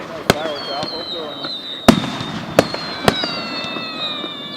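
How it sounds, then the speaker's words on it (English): Fireworks bang sharply four times at irregular intervals, loud and close, with whistling trails rising between the blasts while people talk and laugh around them. "That's insane, like fireworks."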